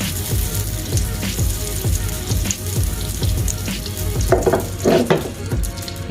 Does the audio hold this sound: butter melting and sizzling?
yes